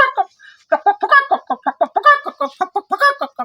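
A man imitates a hen's cackle after laying an egg, a rapid run of voiced clucks in an uneven rhythm, loud and close, with no other sound.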